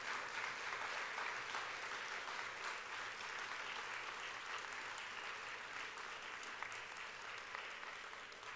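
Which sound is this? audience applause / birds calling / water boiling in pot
audience applause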